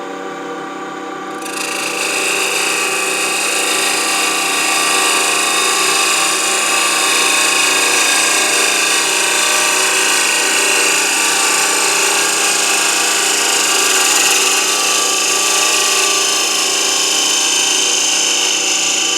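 A power tool whirs steadily as it cuts Palo Santo wood under a bead on a box, starting abruptly and holding a continuous high buzzing grind for the whole stretch, with no talking.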